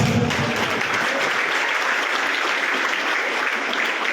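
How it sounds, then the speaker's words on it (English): Applause for parents at a national throwball championship prize distribution ceremony: a large audience clapping loudly and continuously, a dense even wash of hands with no gaps. "Give round of applause to the parents."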